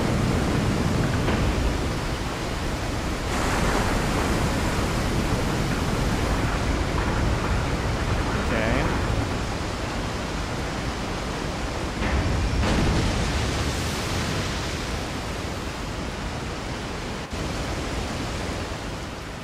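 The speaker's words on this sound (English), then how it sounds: "Now we can pass through the waterfall." Continuous rushing waterfall in Resident Evil 4, a dense broadband roar that stays steady and loud throughout with slight surges, no voices.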